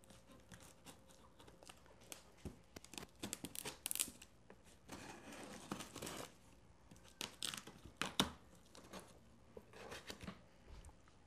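Packaging around a new Casio MZ-X500 keyboard is torn and crinkled open, with irregular bursts of cardboard, plastic and paper rustling close by, some louder rips among softer handling noises.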